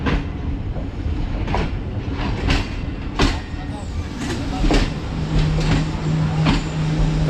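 Passenger train pulling into a small station near Havelian on the route to Rawalpindi, with a low rumble, rhythmic clacking over rail joints and a sustained hum, while someone speaks over it.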